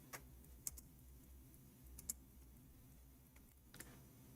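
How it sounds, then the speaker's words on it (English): Faint, sparse keystrokes on a computer keyboard tick out in small scattered bursts against a quiet room background. "we are typing in English again."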